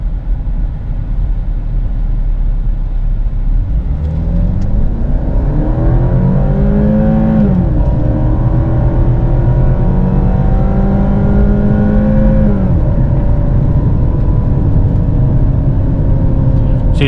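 Cadillac ATS 2.0 four-cylinder in sport mode holding a gear, a loud steady engine drone that rises in pitch and holds high revs, heard from inside the cabin with a voice occasionally over it.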